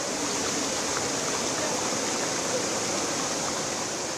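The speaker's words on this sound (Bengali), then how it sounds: "ভাঙা বাদ দিয়ে হু করে ঢুকছে পানি" Floodwater pours through a broken embankment in Feni's Parshuram area as a loud, unbroken roaring rush of water that holds steady throughout.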